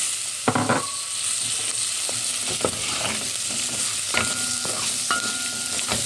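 Hunting sausages sizzle in a frying pan for pea soup, with a constant close hiss of frying. A few sharp scrapes and clinks of a utensil against the pan break through, and no voice is heard.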